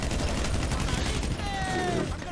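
Rapid gunfire in GTA 5 Online survival mode crackles as a dense burst of shots, loud and continuous over the whole short stretch with a rising whistle near the end.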